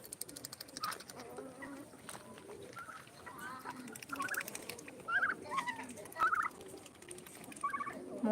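Turkeys kept among backyard poultry gobble in short, rapid bursts at moderate distance, several calls spread across the stretch over a low rustling background.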